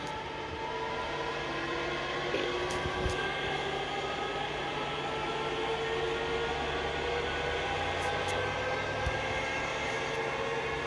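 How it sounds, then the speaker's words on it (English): A train in a railway simulator game rumbles along steadily, a continuous mechanical drone with humming engine tones and occasional faint clanks, sustained and even throughout with no talk. "This is a pretty cool train."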